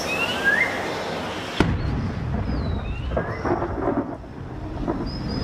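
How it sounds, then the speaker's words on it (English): A sharp crack of thunder breaks over steady heavy rain in the Amazon rainforest during a tropical storm, the downpour loud and continuous with a distant rumble lingering afterward. "In December, storm clouds gather, heralding the start of the heavy rains."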